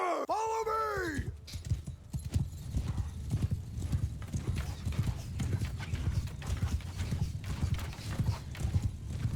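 Horses of mounted horse archers gallop in Mount & Blade II: Bannerlord, a dense, continuous clatter of many hooves close by after a brief neigh at the start, with occasional talk.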